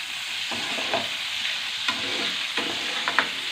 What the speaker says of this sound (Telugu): ఆయిల్లో మంచిగా ఫ్రై చేసుకోవాలి